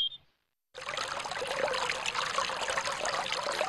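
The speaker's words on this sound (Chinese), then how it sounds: "为什么咱们取水还要往井里面倒水啊？" Water is poured into a hand-pump well, a steady close trickling pour starting abruptly after a brief silence and continuing evenly to the end.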